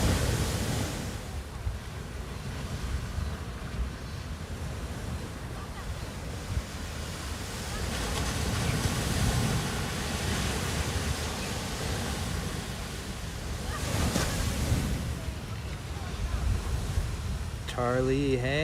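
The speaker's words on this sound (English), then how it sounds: "Could just be showing you guys the ocean" Ocean surf rolls in at La Jolla Cove in San Diego, a broad continuous wash of waves with swells building and fading, heavy wind buffeting the microphone and brief voices near the end.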